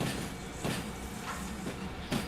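Railway cars coupling in the Derail Valley train simulator, with a continuous rumbling rail background broken by several sharp metallic clanks and knocks at irregular intervals.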